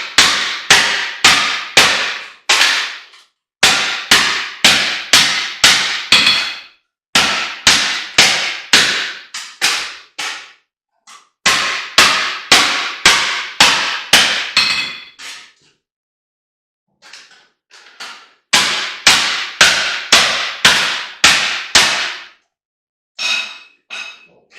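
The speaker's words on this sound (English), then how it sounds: "what I'm doing is just hammering it flatter" Heavy hammer blows ring out on metal laid over an anvil as copper from a motor armature is beaten flatter, landing in fast, evenly spaced bursts of six to eight loud strikes separated by brief pauses.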